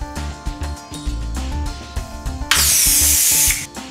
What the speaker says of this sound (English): To inflate a latex balloon, place the balloon over the inflation outlet and push the button on the top of the unit or tap the foot pedal to activate the inflation cycle.